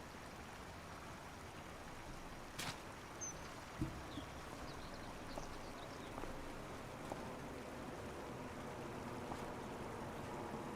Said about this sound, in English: there's a bit of a brook sound there